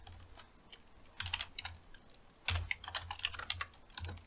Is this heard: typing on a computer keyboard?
yes